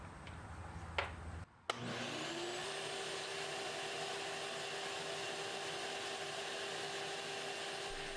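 A shop vacuum switches on with a sharp click and spins up to a steady, loud whine and rush of air, drawing oil out of a warmed-up lawnmower engine; no one speaks.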